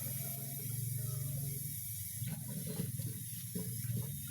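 Water runs and gurgles steadily into a 1.5-liter drinking bottle, a continuous close pour with a low hum underneath.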